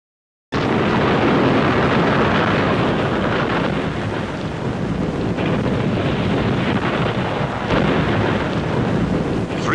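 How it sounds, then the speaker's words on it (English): After a moment of silence, a huge sustained roar erupts from an underwater rock explosion hurling 375,000 tons of rock, loud and rumbling with wind-like buffeting that stays heavy for the full stretch. "one of the biggest non-atomic explosions in the history of man"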